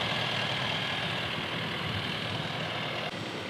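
A turbocharged 2.0-liter four-cylinder hybrid engine in a 2022 Jeep Grand Cherokee 4xe runs at a steady idle, a continuous close-up hum and whir with no speech.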